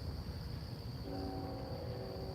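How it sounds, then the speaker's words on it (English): A distant freight train horn sounds from the south beside the tracks, a faint multi-tone chord that starts partway in and holds steadily over wind and outdoor rumble. "we do have a series of horn blows from the south of us."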